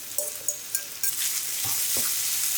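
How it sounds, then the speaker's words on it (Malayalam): Fish pieces go into a pan of frying onion masala and are stirred, giving a steady hiss of sizzling oil and a few scraping, knocking stirs. "ഇനി ഈ ഫിഷിനെ ഞാൻ ഈ മസാലയിലോട്ട് ചേർക്കണം."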